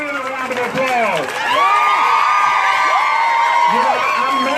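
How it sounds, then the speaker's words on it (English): Crowd at a women's sister march in Norfolk, Virginia cheering and whooping after a call for applause, a loud sustained mass of shouts and voices with rising whistles or whoops, close and full throughout. "Now give Gaylene a round of applause."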